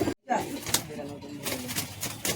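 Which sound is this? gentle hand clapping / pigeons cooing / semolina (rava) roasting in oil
pigeons cooing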